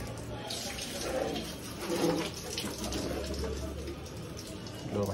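Water sprays and splashes steadily while a Yamaha MT-15 V3 BS6 motorcycle is washed at home, forming a continuous close wash of noise with some louder surges. No one speaks over it.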